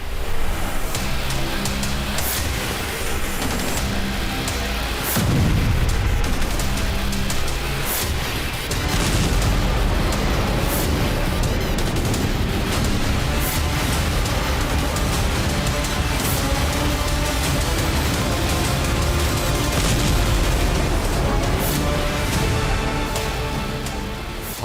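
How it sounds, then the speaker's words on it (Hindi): Heavy booming blasts and rumbling detonations of missile strikes and air defence fire over Sevastopol at night, a dense, continuous roar with repeated sharp impacts, loud and without speech. "सेवेस्तोपोल आसमान धमाकों से गूंज रहा था।"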